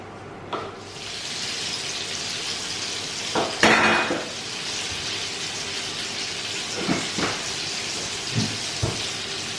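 Cheese balls, some with jalapeno, fry in a pan with steady hissing sizzle and bubbling oil, close up, broken by a few louder pops and spatters.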